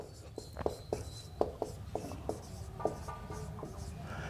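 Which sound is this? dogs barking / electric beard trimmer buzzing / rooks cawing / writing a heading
writing a heading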